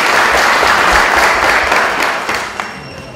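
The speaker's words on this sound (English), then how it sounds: "Let us clap our hands." Loud, close crowd applause, a dense wash of clapping hands that holds steady and then gradually thins and fades out.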